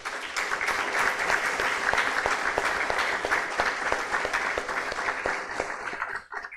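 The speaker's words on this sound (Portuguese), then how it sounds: "Uma salva de palmas para o grupo." A church congregation applauds a group welcomed into the presbytery, steady dense clapping filling the room at close range, then cutting off abruptly at the end.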